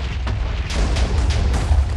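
A Minecraft explosion going off nearby, a dense booming roar with a few sharper bursts layered over a sustained rumble.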